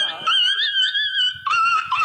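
A human voice imitates a dog yelping in pain as it is struck with a stick, giving a loud, high, wailing cry that rises and falls, breaks briefly, then resumes for about two seconds.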